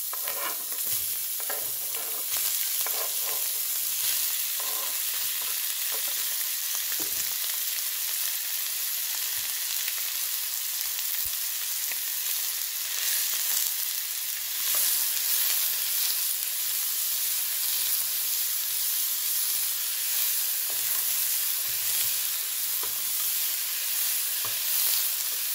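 Chopped meat for Ethiopian tibs fries in a pan with little oil, a loud continuous close sizzle with intermittent stirring scrapes and crackles, no voices.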